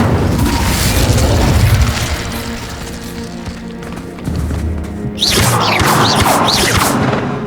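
Incendio fire spell cast in Hogwarts Legacy: a loud, sustained fiery roar and booming blasts with whooshing swells, continuing throughout amid other combat noise.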